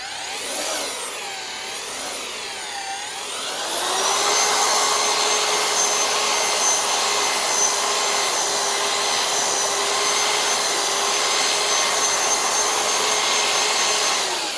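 A paddle mixer whirs loudly and steadily, churning Fuga-Pave Flex grout after a quieter, wavering start that ramps up to a continuous high-speed drone with no talking.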